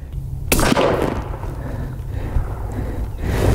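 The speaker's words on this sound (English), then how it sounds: "I'm gonna try to shoot a little bit higher on the block." A single 204 Ruger rifle shot fired with a Sierra 39 grain Blitz King bullet, one sharp loud crack followed by a long fading echo, outdoors.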